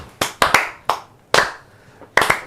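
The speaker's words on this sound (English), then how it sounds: "can we just slow clap that?" A slow clap rings out in a podcast studio: a few sharp, close hand claps land at uneven, unhurried intervals, some doubled, with brief room decay after each.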